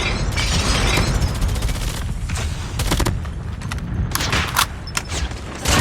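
Rapid gunfire from a Call of Duty Mobile clan war Domination match on the Hovec Sawmill map, with loud, dense bursts of automatic shots and heavy impacts running almost continuously, broken by short lulls.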